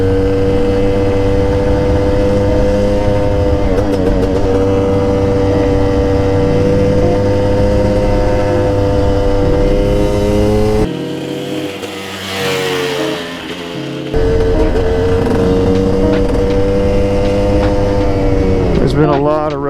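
Yamaha YZ250 two-stroke dirt bike during an engine break-in ride on a rural road, its loud, buzzy engine droning close by at a steady pitch, dropping briefly as the throttle eases, then revving back up.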